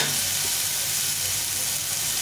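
Tomatoes fry in a pan with a loud, even, unbroken sizzle heard up close across a couple of seconds, with no voices.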